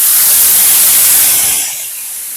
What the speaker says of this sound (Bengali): এবার টমেটো, আদা, কাঁচা লঙ্কার যে পেস্টটা করে রেখেছিলাম সেই পেস্টটাকে দিয়ে দেবো।